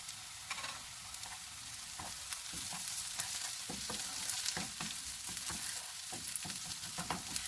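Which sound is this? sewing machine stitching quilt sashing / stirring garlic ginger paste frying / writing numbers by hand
stirring garlic ginger paste frying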